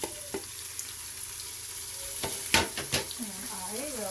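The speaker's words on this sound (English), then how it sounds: "I am going to dump the ground beef in there." Ground beef hits sautéed onions in an Instant Pot and sizzles steadily up close, with a few scraping stirs and clinks rising above the frying in the second half.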